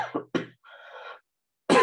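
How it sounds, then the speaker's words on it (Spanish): A man coughs several times in quick, sharp bursts indoors, close and fairly loud, with short pauses between them. "Ay, qué tos, disculpen ustedes."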